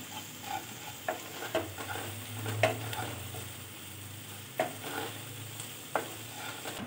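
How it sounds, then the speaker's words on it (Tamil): Masala with asafoetida and garam masala being sautéed in a pan for a green banana roast, a steady low sizzle broken by repeated sharp scrapes and knocks of a spoon stirring, close and with no one talking. "இந்த மசாலாவோட பச்சை ஸ்மெல்லாம் போகிற வரை நல்லா வதக்கிங்க."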